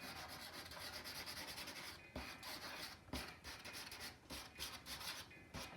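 Dry pastel stick, a pale lavender, rubbed and blended across paper, a steady close scratchy rasp with short repeated strokes and no voices.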